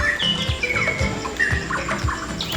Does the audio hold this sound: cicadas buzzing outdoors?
no